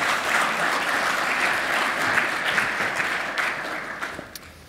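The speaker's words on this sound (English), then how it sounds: "a round of applause for our chairman and panel." Sustained applause from an audience greeting the chairman and panel at a data science and big data panel session, a dense steady wash of clapping that tapers off near the end.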